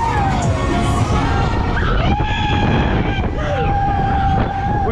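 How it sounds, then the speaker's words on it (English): A fairground twister ride runs with riders screaming and shouting in high, sliding cries over a loud, dense crowd and ride din, with horn-like tones and wind rumble. "We got the horns, we got the screams, we got the full package here on this twister"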